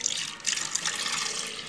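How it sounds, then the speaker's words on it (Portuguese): Milk poured into a bowl for cheese waffle batter, a short steady liquid splash and gurgle close by with no talking. "Primeiro eu vou colocar o leite."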